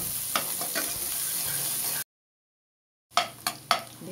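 Chopped onions, about four, frying in a pan of spiced oil for a country chicken curry with new potatoes, a steady broadband sizzle with stirring clinks, broken by a short silence before sharp scrape-and-clatter strokes return.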